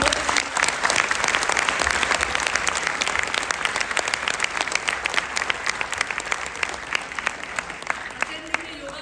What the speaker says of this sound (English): Let us give a big round of applause to both of you.